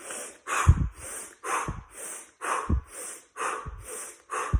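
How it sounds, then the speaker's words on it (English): Seven-count pre-workout power breathing, each breath drawn sharply in through the nose and forcefully blown out through the mouth, repeats in a steady rhythm of about one breath per second, close and clear with no talking. "we're going to take 7 power breaths in through the nose, out through the mouth, trying to fill up and then forcefully exhale"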